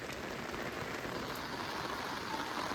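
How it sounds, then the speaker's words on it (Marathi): Steady rain pours down outdoors during a birthday outing, an even, dense patter on surfaces with a few sharper drops standing out close by, constant throughout with no voices. "काही फर्स्ट टाइम एवढा बर्थडेला पाऊस पडलाय."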